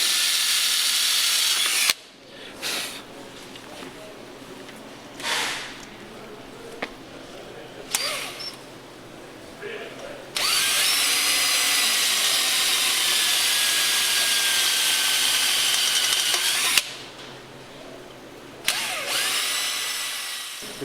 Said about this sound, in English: cobalt drill bit, which is going to be designed to drill specifically into stainless steel